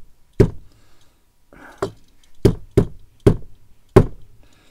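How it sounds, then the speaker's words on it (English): Knocking on a 1:64 die-cast model car while trying to pry open its stuck hood. Six sharp, close, hard taps come at irregular intervals against a quiet background. "Sorry for the knocking around there."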